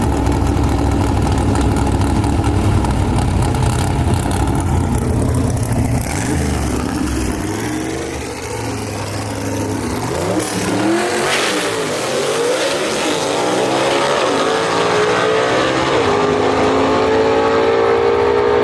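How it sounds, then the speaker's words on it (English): Gene Fulton-built engine in a 1949 Studebaker gasser drag car at a dragstrip, loud idle burble swelling into rising, sweeping revs, close and continuous with no talk. "Robert Harris bringing back Bill Wilson in that Gene Fulton prepared motor underneath the hood of that 49 Studebaker"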